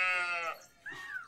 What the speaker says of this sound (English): That's more of a sheep, but sounded like a goat